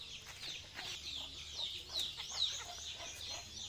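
Chickens cluck and chirp in a steady chorus outdoors, with several sharp higher calls rising above a constant low background rumble.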